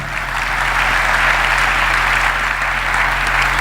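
A church congregation applauding during a sermon, a dense, loud, sustained clapping filling the room without a break.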